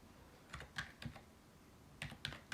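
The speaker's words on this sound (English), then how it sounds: "I'm just typing the solution code on Logic Masters Deutschland" Keys clack on a computer keyboard as a puzzle solution code is entered online, producing faint, sparse keystrokes in two short clusters separated by a brief pause.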